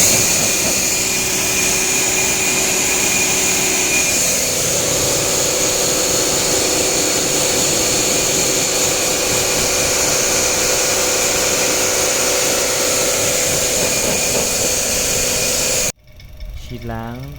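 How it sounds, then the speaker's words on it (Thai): A pressure washer blasts a steady, loud, close hiss of spray onto the AC condenser and fin coil of a 2013 Nissan March for about sixteen seconds, then cuts off abruptly. "ดูขั้นตอนการฉีดล้าง แผงคอนเดนเซอร์และฟินคอยล์มอน้ำนะครับ"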